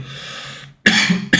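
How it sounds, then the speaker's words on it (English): A single person coughs sharply, two harsh bursts close to the mic after a brief breathy lead-in. "Bloody cough"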